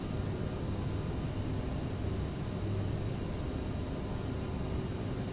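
Default CRJ regional jet sound in the X-Plane flight simulator: a steady, continuous broadband engine and airflow roar with no variation, heard alone.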